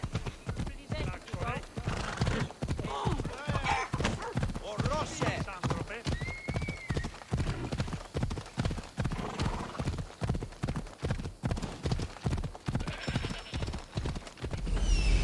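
Horse galloping in Assassin's Creed Odyssey, a rapid, even clatter of hoofbeats running close and loud throughout, with a brief whinny and voices speaking over the ride.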